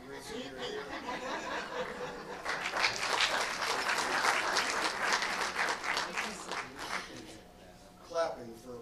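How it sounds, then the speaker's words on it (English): An audience at a lecture breaks into applause for a pine cone, swelling to dense clapping with scattered chuckles, then tapering off as a voice speaks near the end. "Clapping for a pine"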